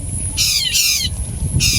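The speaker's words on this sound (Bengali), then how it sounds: "এই পাখি ঝগড়া করতেছে, পাখি ঝগড়া করতেছে।" Birds squabbling let out three loud, harsh, cawing squawks, each about a third of a second long, close by and set apart by short quiet gaps.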